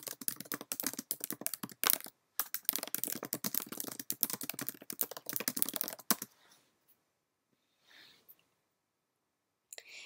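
Typing on a computer keyboard, rapid close clicking keystrokes in steady bursts with a brief pause, then stopping into near silence with a couple of faint rustles.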